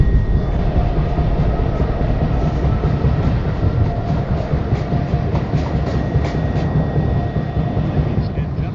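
A Manhattan-bound 1 train on the NYC subway rumbles steadily, heard from inside the car: a loud, continuous low roar with faint rail rattles and no break.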